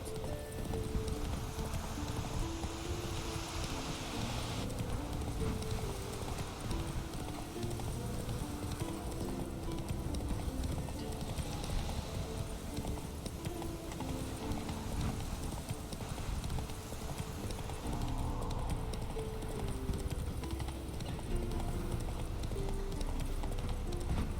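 A horse gallops in The Witcher 3: Wild Hunt with steady, rhythmic hoofbeats that run unbroken for the whole stretch. The hooves are close and prominent over a constant ambient bed.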